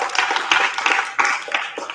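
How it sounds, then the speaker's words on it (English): Audience at a mathematics quiz clapping for the contestants, a dense burst of steady applause from a crowd, fairly loud and close throughout. "So clap, huge claps for them."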